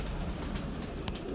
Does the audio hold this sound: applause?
no